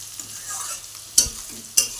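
Shredded cabbage fries in a pan with a soft, steady sizzle, broken by two sharp scrapes of a spatula stirring it about a half-second apart.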